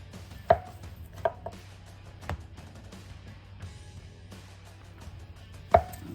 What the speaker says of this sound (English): slicing this bologna into 1 centimeter thick slices